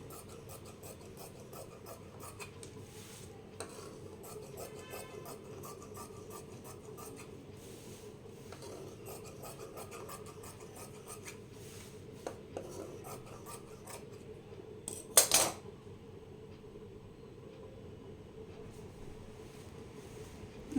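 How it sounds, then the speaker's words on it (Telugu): Scissors cut along the border of blouse cloth, making a faint, close, rasping rub with soft repeated snips in a quiet room, plus one brief louder clatter partway through. "ఫస్ట్ ఉన్న బార్డర్ మొత్తం కట్ చేసుకోవాలి"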